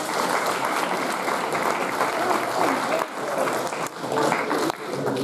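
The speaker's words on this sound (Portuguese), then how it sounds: "mais um aplauso, por favor, para o resto folclórico do Val de Santarém." A festival crowd gives a folk dance group from Val de Santarém a loud, sustained round of applause, with dense clapping throughout and a few brief dips near the end, voices faintly mixed in.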